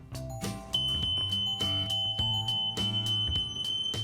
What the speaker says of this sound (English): That's an alarm, tells you there's smoke.